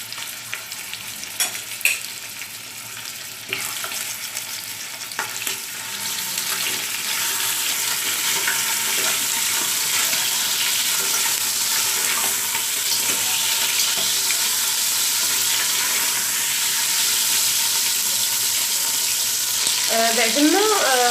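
Lamb meat searing in hot oil in a pot, starting with a few stirring scrapes, then a loud, continuous crackling sizzle that holds steady to the end.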